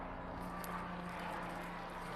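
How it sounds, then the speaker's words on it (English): A faint, steady low rotor drone from a helicopter passing overhead, distant and continuous, with no talking. "I got a helicopter flying over."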